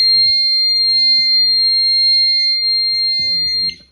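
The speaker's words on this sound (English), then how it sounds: "yes, all devices are now alarming" An Enforcer home security alarm sounds a loud, steady electronic tone that holds unbroken for about four seconds, with a few soft knocks and handling clicks underneath before it cuts off at the end.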